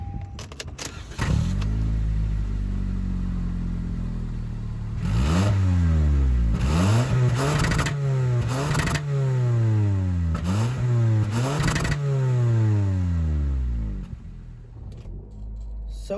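A 2024 Toyota Camry SE in celestial silver metallic, in eco mode, pulls away and accelerates through several gear shifts, its engine rising and dropping in repeated sweeps, steady and close without talk.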